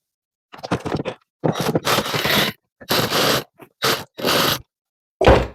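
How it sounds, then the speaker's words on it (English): A wrench backs off the 12mm alternator adjuster bolt on a Hyundai/Kia 2.0 Nu engine, giving several close, loud bursts of metallic scraping and ratcheting separated by short silences, with no talking. "So now I'm going to back off the 12mm adjuster bolt until the belt is loose enough to take off"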